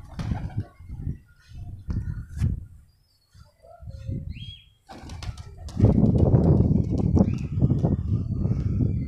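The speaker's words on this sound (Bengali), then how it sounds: "পায়রাটা রিলিজ করে দিলাম।" A red pilong female pigeon is let go. A few short flutters and soft coos come first, then a loud, sustained burst of flapping wings close by that carries on to the end.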